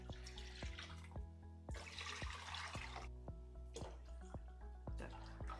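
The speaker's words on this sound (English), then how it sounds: "So we're adding the waters, lower the heat so the oil and the water don't splash on each other." Water is poured into a pan of searing pork at lowered heat, giving a close, loud bubbling sizzle with bursts of hissing and scattered popping drips.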